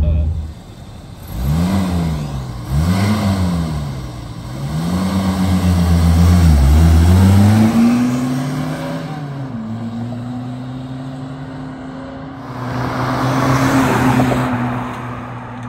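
A 1979 Mercury Capri RS Turbo, a Fox-body car, makes several drive-bys. Its engine note rises and falls through repeated revs, then swells into a loud close pass and a sustained run before fading, with a final approach near the end.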